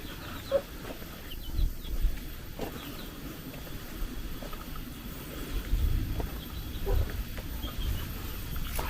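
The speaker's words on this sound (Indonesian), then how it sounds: "suara ayam" A chicken clucks intermittently in the distance in a nearly deserted rural Indonesian village, over a quiet outdoor ambience with low rumbling background noise.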